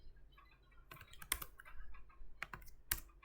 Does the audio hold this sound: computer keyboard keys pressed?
yes